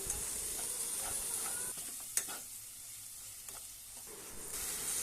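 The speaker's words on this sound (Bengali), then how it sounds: "এবার আমি এই মশলাটাকে খুব ভালোভাবে কষিয়ে নেব।" Spice paste for a chicken gizzard curry frying and being stirred in a pan, a steady soft sizzle with occasional scraping knocks, fairly quiet and continuous with no talking.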